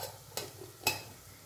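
A spoon stirs chicken biryani in a pot, giving two short scraping sweeps about half a second apart, quiet and close, with a soft background hiss and no talking.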